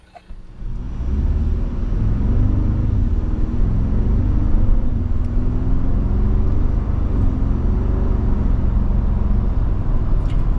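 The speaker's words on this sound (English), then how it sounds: "We're going down the road in this 24 Tacoma TRD off-road with that big premium package with this iForce Max" A 2024 Toyota Tacoma TRD Off-Road hybrid with the i-Force Max powertrain cruising on a road, heard as a continuous low rumble and road noise, steady and fairly loud throughout with no talk.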